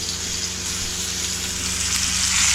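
Pomfret fish frying in oil on a hot pan, a steady, loud, close sizzle that hisses continuously and swells slightly toward the end.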